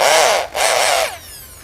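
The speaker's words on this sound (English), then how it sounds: "The drilling function is working well." Two short, close bursts of a Bosch power drill whining with a brief gap between, then the motor spins down.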